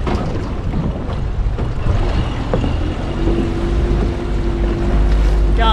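A fishing boat on Sydney Harbour motors along in gear, its engine a low continuous rumble under heavy wind buffeting and water noise, with no talking.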